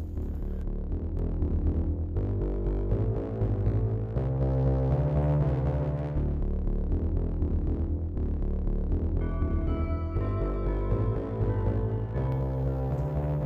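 A felt tip loaded with 5 micron diamond grit paste polishes a 10ct dark opal, a steady close motor hum and whine with slight shifts in pitch throughout.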